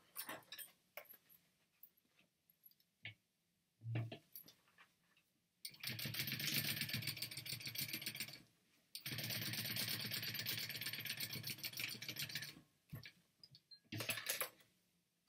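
A sewing machine top stitches a small clutch wallet in two sustained runs of rapid, even needle chatter, separated and framed by soft clicks and handling taps in a quiet room.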